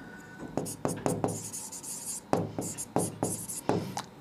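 Handwriting out a maths derivation for a Class 12 differentiation exercise, with bursts of pen or marker strokes in short scratchy runs, pausing between groups, close and moderately loud.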